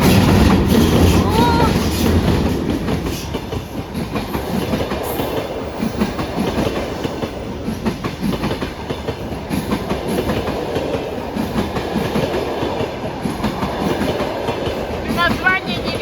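A passenger train rolls past close by near Shepsi, a loud continuous rumble carrying a rhythmic clickety-clack of wheels over rail joints for the whole stretch.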